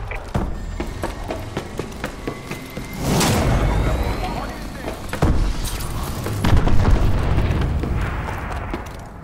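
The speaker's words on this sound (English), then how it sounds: "Friendly missile strikes incoming." Missile strike explosions rumble and boom in Call of Duty: Advanced Warfare Domination on the Bio Lab map, several heavy blasts rising over continuous battle noise with game announcer voice lines.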